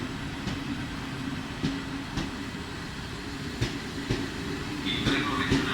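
A Trenitalia regional train pulls into a platform at Venezia Mestre station, giving a steady low rumble with periodic wheel clicks over the rail joints and a faint squeal near the end, with no talk over it.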